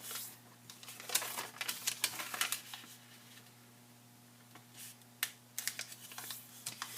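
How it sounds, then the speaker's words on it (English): Square origami paper is folded and creased by hand, giving close crisp crinkles and sharp pressing clicks in bursts with a pause in the middle, over a faint steady hum and no talking. "with the color side facing up, we fold in half both ways diagonally"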